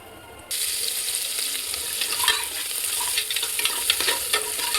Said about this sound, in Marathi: लसूण टाकून घेतला. थोडासाच भाजून घेते, जास्त पण करपवायचं नाही तो.